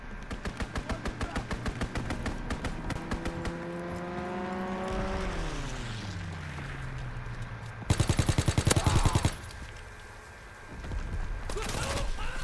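Rapid machine-gun bursts from a strafing fighter plane in the Call of Duty WWII video game, loud rhythmic fire over an engine drone that dips in pitch, with a second dense burst later; no talking.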